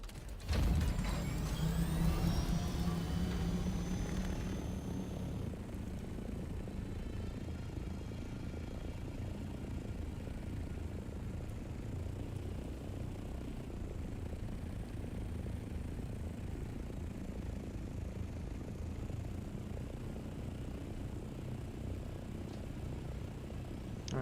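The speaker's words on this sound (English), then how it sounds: "There's a bunch of thopters here." Ornithopter aircraft engines in the Dune Awakening video game, a steady mechanical whirring drone with a ratcheting texture, a louder passing burst at the start then a constant hum at moderate distance.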